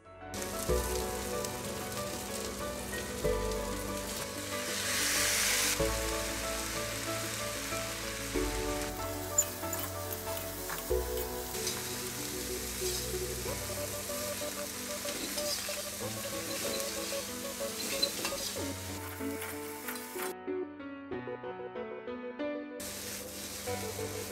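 Turkey meat and butter-coated vegetables sizzle steadily in a pan while being stirred, a continuous close frying crackle with scraping of the mix, broken by a brief quiet gap near the end.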